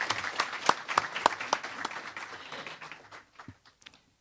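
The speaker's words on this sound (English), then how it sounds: "So a round of applause for Supervisor of Elections," An audience at a transportation awards ceremony applauds the Supervisor of Elections. Loud, fairly sparse claps ring out close by, then thin and taper away to silence after about three and a half seconds.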